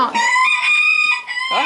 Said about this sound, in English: And that's where the banty hens go. For the banty chicks.